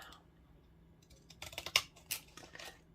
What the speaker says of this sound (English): These scissors make anything I cut with them look like it's an actual stamp.